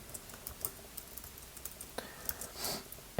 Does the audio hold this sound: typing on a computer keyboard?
yes